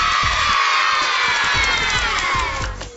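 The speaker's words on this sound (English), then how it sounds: "You have a fantastic audience right behind you to cheer you on." A studio audience at a game show cheers and shouts loudly, a dense crowd roar of mostly children's voices, sustained and close, tapering off slightly at the end.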